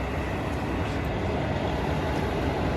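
A KIHA 183 tourist diesel train crosses a cable-stayed railway bridge, producing a steady, loud, dense rumble that holds evenly throughout.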